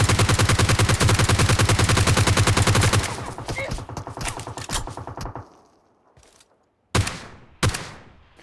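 A long rapid string of loud, close gunshots rings out in a mobile battle royale game. After a pause, two separate sharp single shots follow in a row.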